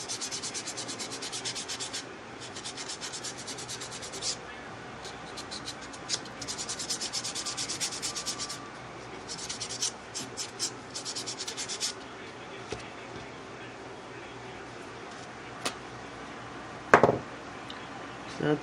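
An acrylic nail is filed by hand during a glitter encapsulation at-home acrylic kit session, producing bursts of close, rasping back-and-forth strokes that start and stop, then give way to scattered taps and soft handling sounds.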